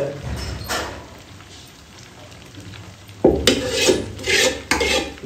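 A pot of okra gets stirred as spices go in, with utensil scrapes and clanks against the metal that start soft and turn louder and busier near the end, plus a faint sizzle underneath.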